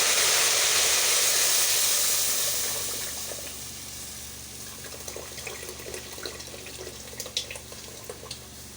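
Pepper hits hot palm and vegetable oil in a pot and sizzles: a loud, steady frying hiss that fades over the first few seconds, then settles into a softer sizzle with scattered crackles and pops.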